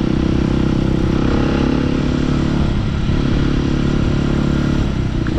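A motorcycle riding along a damp, slippery street, its engine droning steadily and loudly throughout with a constant road roar and no talking.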